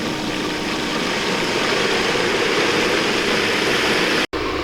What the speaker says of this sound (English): you'll hear the pump change sounds like that when you start sucking air